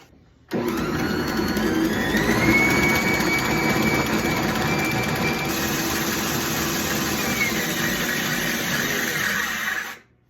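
Bosch stand mixer fitted with NutriMill Pro Line cookie paddles mixing flour and cookie ingredients, a loud steady motor whir with a rising whine that starts abruptly, runs continuously for about nine seconds and then cuts off, with no speech.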